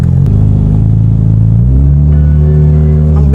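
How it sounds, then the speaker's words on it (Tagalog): Engine of a Honda Civic FD 1.8 being revved as it downshifts during a test drive, a loud steady drone whose pitch steps and shifts between gears, heard up close without talk. "Ang bilis siya mag-downshift"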